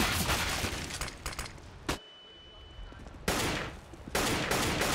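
Rapid, loud gunfire from a CS:GO match on the Overpass map, sprayed in dense bursts, with one sharp crack, a brief lull, then renewed volleys.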